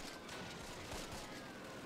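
Small arms fire from the WWII strategy game Close Combat: Wacht Am Rhein, heard as a faint, distant, continuous crackle of rifle and machine-gun shots with no voices.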